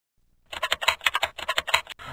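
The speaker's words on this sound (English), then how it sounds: "The keyboard makes a soft sound when you press the keys." Fingers type on a computer keyboard in a rapid, even run of about a dozen crisp key clicks, close and alone.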